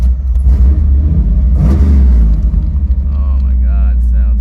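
A 1986 Camaro IROC-Z with a fuel-injected 383 stroker V8 rumbles loud and close, with a throaty blip around the middle, then settles back to a steady burble while people talk over it.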